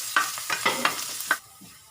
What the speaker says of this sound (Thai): จากนั้นก็จะมา จียวกระเทียมนะคะกระเทียมที่เราแบ่งไว้อะ